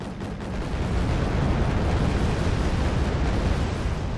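Artillery fire in the strategy game Wargame: Red Dragon, a loud, continuous rumbling roar of bombardment that swells and holds steady throughout.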